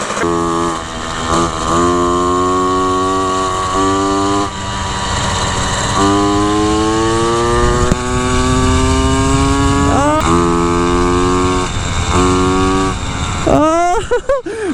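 Moped scooter engine droning as it rides along a desert path, a steady buzzing note that shifts pitch with the throttle, loud and close, with sharp revs near the end.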